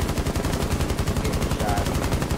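Rapid gunfire from a Rainbow Six Siege match, a dense run of close, loud shots rattling steadily through the whole stretch with faint voices underneath.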